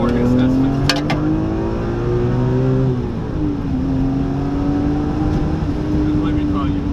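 Engine of a BMW E46 M3 with its S50 straight-six, revving with steady sustained tones that rise and dip, loud and close throughout.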